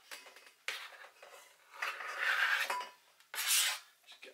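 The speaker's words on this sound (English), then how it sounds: "Okay, so I'm putting it into this nice stainless steel bowl for now." Lamb leg steaks go into a stainless steel bowl as a street food lamb wrap is prepared, giving several clattering metallic knocks and scraping bursts, close and fairly loud, with no talk.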